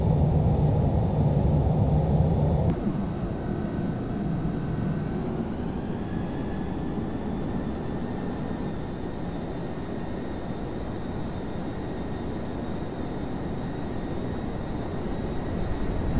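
An F/A-18 at full military power rumbles with a heavy, steady jet roar in the Flight Simulator X carrier mission. The pitch shifts and rises slightly as the catapult launch fires and the engine drone carries on alone.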